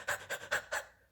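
A voice imitates a dog panting: four quick, breathy huffs in a steady rhythm, close and fairly loud, with no other speech.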